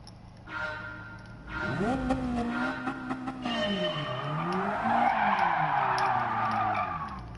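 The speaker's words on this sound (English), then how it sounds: "I may complete this one with drifting" Car tires squealing through a drift in Gran Turismo 7, with a long wavering skid over a revving engine that builds and holds loud to the end.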